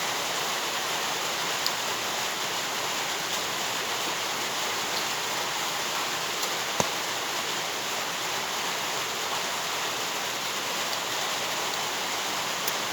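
Steady rain in the morning, a constant broadband hiss of falling water heard alone for the whole stretch with no pauses or talk.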